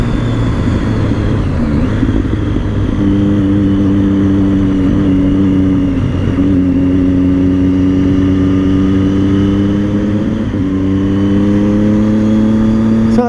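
Triumph Street Triple motorcycle ridden through the autumn Chilterns countryside, a loud continuous engine drone with shifting pitch as revs rise and fall, heavy wind rush underneath, no talk.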